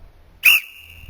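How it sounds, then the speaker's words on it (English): A single short, piercing whistle blast, loud and close, with a faint tonal ring trailing off after it. "One thing that works good is a whistle."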